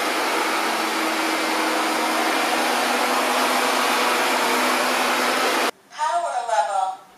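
An AIRROBO P10 robot vacuum cleaner runs in normal mode, giving a steady, loud whooshing suction hum that cuts off abruptly near the end, followed by a person speaking.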